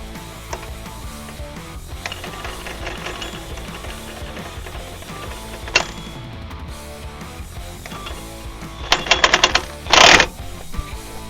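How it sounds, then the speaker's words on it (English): On a Jeep Wrangler JK, an impact wrench drives a socket on a ball joint press in two short, loud rattling bursts near the end, over a steady background hum of shop noise. "Now let's get the socket on the impact here."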